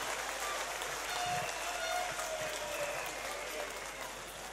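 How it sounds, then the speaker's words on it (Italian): A theatre audience at a comedy jury show gives sustained, dense applause that stays loud and steady throughout before easing slightly at the end. "Gli facciamo un applauso."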